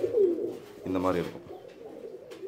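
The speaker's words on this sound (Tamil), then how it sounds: "புறா" Pigeons cooing at close range, their low throaty calls overlapping with someone talking over them, racing pigeons whose wing feathers have been plucked during training for a tournament.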